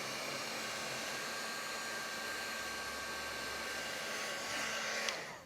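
A craft heat tool blows hot air to dry ink on paper for a faux batik technique, a steady loud whirring hiss running continuously near the microphone with a slight rise in the final second.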